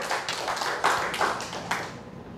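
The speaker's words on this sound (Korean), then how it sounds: "박수." A church congregation breaks into applause during a healing testimony, a dense run of overlapping hand claps that swells in a few bursts over about two seconds and then fades out.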